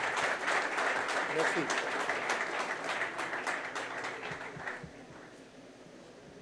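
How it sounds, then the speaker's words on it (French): Audience at a conference applauding author Charles Onana, a dense burst of clapping that fades out after about five seconds, with a voice speaking briefly over it. "On va vous applaudir."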